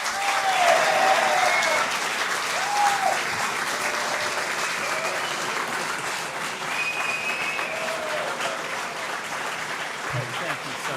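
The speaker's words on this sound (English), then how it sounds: "a rounding round of applause" Applause at an inauguration ceremony fills a large room, a dense, sustained clapping from a big crowd that stays loud throughout and eases only slightly before a short thump near the end.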